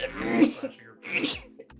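Two sneezes in quick succession, close and fairly quiet, during a tabletop game session.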